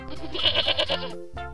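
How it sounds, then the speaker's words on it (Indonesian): A male goat gives one loud, close, drawn-out nasal bleat that wavers for about a second before breaking off, followed by a short second cry. "Wow, ini ada kambing jantan."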